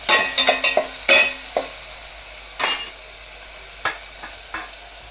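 Green chillies frying in oil for rasam, with a few sharp clanks of a utensil on the pan and a soft sizzle in the short stretches between them.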